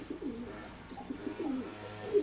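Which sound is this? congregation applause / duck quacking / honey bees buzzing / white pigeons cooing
white pigeons cooing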